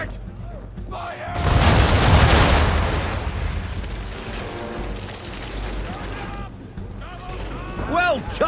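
A ship's cannon broadside in Assassin's Creed 3 erupts as a heavy, rumbling roar of overlapping blasts that swells and slowly decays, with shouted voices over it near the end.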